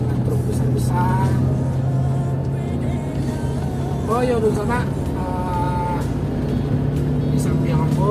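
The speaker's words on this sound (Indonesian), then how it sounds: "Kita selalu berhadapan dengan truk besar-besar." Big trucks pass on the Sitinjau Lauik mountain road, their engines giving a steady, heavy low rumble that swells as they go by. People talk over the traffic noise throughout.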